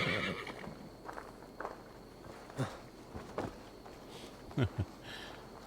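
A horse in Assassin's Creed: Valhalla whinnies a few times, short bright neighs spaced apart, over faint hooves and background game noise.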